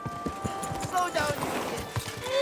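Horse hooves clip-clop at a brisk pace in the video game Kingdom Come: Deliverance II, close and steady, with a person talking over them.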